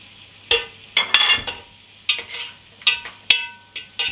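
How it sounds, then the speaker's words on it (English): Bursts of sizzling from diced potatoes frying in butter in a hot pot for chowder, crackling in irregular spurts with short quieter gaps, close by and without talk. "I can tell the pot is hot, it's sizzling"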